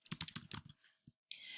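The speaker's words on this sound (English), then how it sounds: "So if I just click on that, I can begin typing" Quick clicking keystrokes on a computer keyboard, a close burst of taps that trails off, then a brief hiss.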